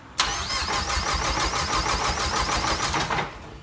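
A Mazdaspeed 3 engine cranks and catches in one loud, continuous burst of starter whine and rising engine roar lasting about three seconds, close to the microphone, with no talk over it.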